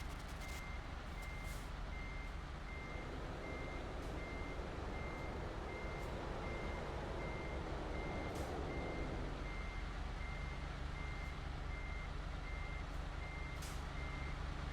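Truck reversing beeps in Euro Truck Simulator 2, a steady evenly spaced electronic beep repeating for the whole stretch over a constant low engine rumble, with no talking.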